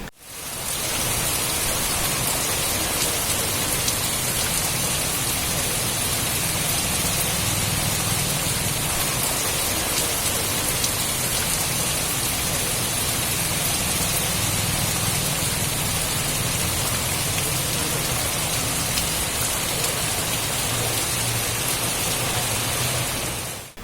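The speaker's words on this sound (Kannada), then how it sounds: "ಶಿರಸಿ ನಗರದ ಪ್ರಗತಿ ನಗರದಲ್ಲಿ ಮಳೆಯ ನೀರು ಮನೆಯೊಳಗೆ ನುಗ್ಗಿ ಅವಾಂತರ ಸೃಷ್ಟಿಸಿದೆ" Heavy monsoon rain in Sirsi's Pragati Nagar, Karnataka, makes a dense, unbroken roar that holds constant from start to finish, with no talking.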